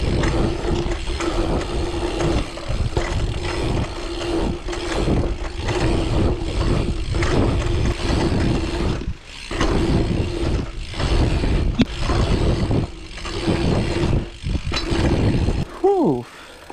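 Mountain bike rolling laps of a pump track at Griffin Bike Park, a continuous rumbling tire and drivetrain clatter with rattles and thumps over the rollers, loud and close throughout, with a brief lull partway.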